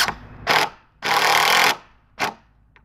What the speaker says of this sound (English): now we're gonna drive these in